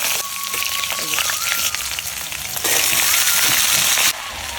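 Loud, close sizzling of green chillies, salt and turmeric frying in hot oil, a dense continuous hiss with crackles that grows a bit louder toward the end.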